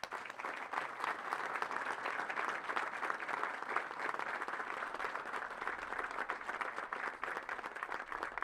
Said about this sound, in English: Ladies and gentlemen, please join me in giving our awardees a round of applause